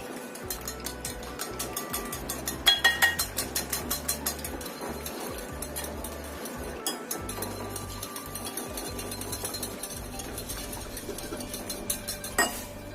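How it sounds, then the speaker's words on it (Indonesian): Rapid rhythmic clinking of a whisk beating cake batter in a bowl, steady and close, with occasional louder taps and no talking. "Kemudian kita kocok sampai tercampur rata semuanya."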